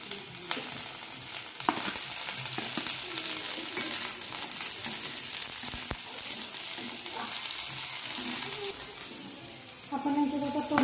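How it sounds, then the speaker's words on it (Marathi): Green chillies fry in hot oil in a pan, a continuous close sizzle with occasional stirring clinks and scrapes, while a faint voice speaks briefly near the end. "आपण याच्यात हिरव्या मिरच्या घालणार आहोत."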